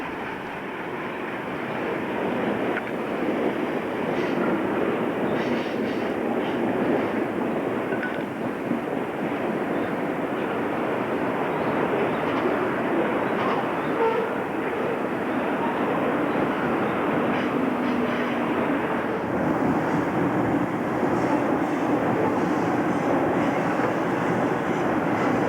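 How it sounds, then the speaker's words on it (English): A continuous heavy rumble and rattle of freight cars carries on throughout as a mixed freight train crosses a bridge over the west branch of the Westfield River on the Boston & Albany line, close and steady. "we watch a mixed train go over the west branch of the Westfield River"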